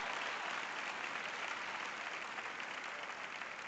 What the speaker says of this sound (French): j'ai 3 personnes qui applaudissent là-bas